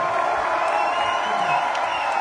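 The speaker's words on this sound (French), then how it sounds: "Je tiens à ce que vous fassiez un tonnerre d'applaudissements pour toute l'équipe technique" Festival audience at the Festival Interceltique de Lorient applauding and cheering for the technical crew, a dense, steady wash of clapping and whoops, with a voice faintly over the crowd.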